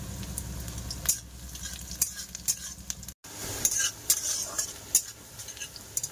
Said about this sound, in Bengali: কড়াই দিয়ে দিলাম পেঁয়াজ কুচি,